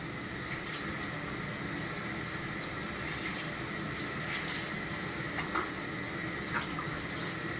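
Running tap water soaking a graphite-colored cleaning cloth in a small bathroom, a steady, close hiss and splash of flowing water that continues throughout with no talk.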